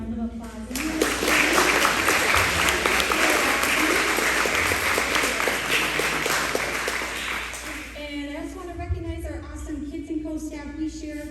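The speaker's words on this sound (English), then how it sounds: "let's give them a round of applause." Sustained applause from a sizable concert audience, loud and steady, with cheering voices mixed in, tapering slightly toward the end as talking resumes.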